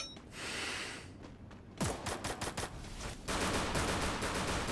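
Automatic M4A1 rifle fire in a battle royale shooter, rapid bursts of shots in quick succession, followed by a dense sustained volley.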